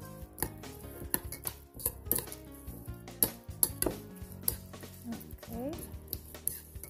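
Bulgogi marinade with brown sugar stirred in a bowl, irregular clinks and taps of a utensil against the dish, close and fairly quiet, with a person talking intermittently.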